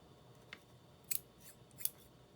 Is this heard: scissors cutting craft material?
yes